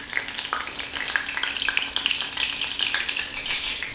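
Pancakes sizzle and fry steadily in a hot pan, a continuous close crackle with small pops scattered throughout, no voices.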